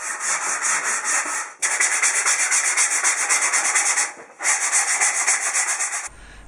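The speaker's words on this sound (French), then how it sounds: "Encore un peu de ponçage." Wood for a handmade wooden cradle is sanded in three long, loud, steady passes with a rhythmic rubbing grind, brief dips between strokes, and nobody speaking.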